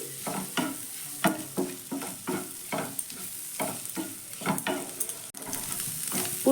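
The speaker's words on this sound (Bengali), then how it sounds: "এবার সব কিছু ভালো করে মিশিয়ে নেব" A spoon repeatedly scrapes and stirs a filling seasoned with Maggi masala in a pan: about a dozen rhythmic strokes, close and clear, over a soft sizzle with no talking.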